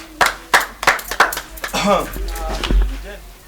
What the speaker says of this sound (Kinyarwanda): muwa mwana amashyi